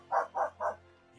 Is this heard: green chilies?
no